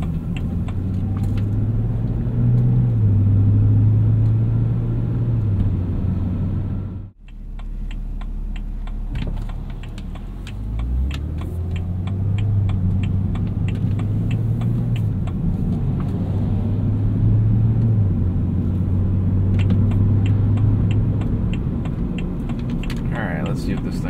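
Steady low road and engine drone inside a moving 2010 BMW 128i coupe, with a brief dip partway through as the engine note changes, continuing at a moderate, even level.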